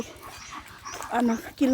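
A dog pants rhythmically and gives a few faint whimpers up close while a person talks over it.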